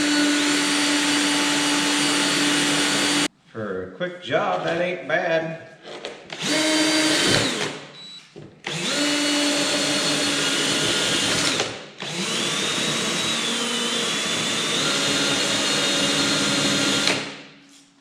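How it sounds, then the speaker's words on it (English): Loud, steady whirring of electric drills spinning engine valves from a 1969 Buick Riviera big-block head in bursts, with a short pause where someone speaks briefly between runs. "So I am just going to insert each valve into this drill."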